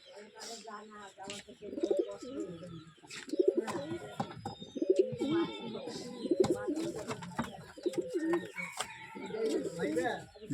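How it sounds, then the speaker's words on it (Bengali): Pet pigeons cooing near their coop, with a chick among them; repeated throaty coos in close, rhythmic bursts over roughly ten seconds, joined by a few brief higher calls. "হিমাংশু খাঁচার থেকে আমি 150 টাকা দিয়ে যে পায়রা তুলেছিলাম তারই বাচ্চা এটা।"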